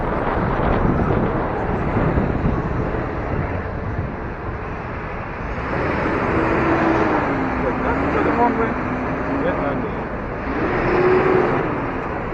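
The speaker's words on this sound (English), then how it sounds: "Traffic's so bad, man, give me nightmares." Busy Midtown street traffic surges and eases in a steady roar with gusts of wind buffeting the microphone, while someone talks over the noise during an electric scooter ride.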